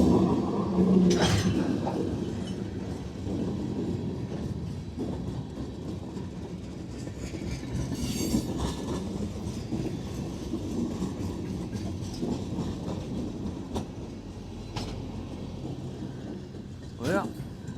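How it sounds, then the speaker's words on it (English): A train rolls along the railway at Crofton, Kelly, Kentucky, a steady rumble with rhythmic wheel clicks and occasional sharp squeals, continuous and moderately distant, with wind and some talk. "somewhere down the line behind them is an empty coal train"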